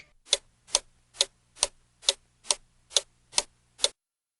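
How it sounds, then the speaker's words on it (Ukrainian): A clock ticks steadily, nine crisp even ticks about half a second apart, close and clear with a faint low hum underneath. "Цокає годинник"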